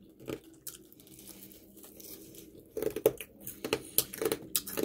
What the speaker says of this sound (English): When you hear that crunch, crispy,